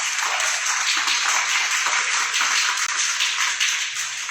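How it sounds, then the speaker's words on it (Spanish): A seminar audience at a publishing forum on audiobooks breaks into steady, dense applause, many hands clapping close and loud throughout without a break. "Vamos a darle un aplauso."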